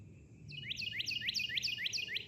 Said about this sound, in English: The birds. The birds. This is my patio.